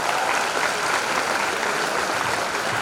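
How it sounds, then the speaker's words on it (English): An audience at an orientation program applauds with dense, continuous clapping that stays loud and even throughout. "let's give big round of applause as a piece of respect"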